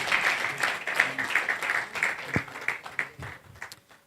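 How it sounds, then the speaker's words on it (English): An audience at a young CEOs and professionals business meet-up applauds a panel guest, with a brisk round of clapping that starts full and steadily thins toward the end. "Give him a round of applause"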